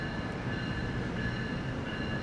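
NJ Transit train passing close by, a steady loud rolling rumble with bright metallic wheel tones and faint squeal sustained throughout, no voices.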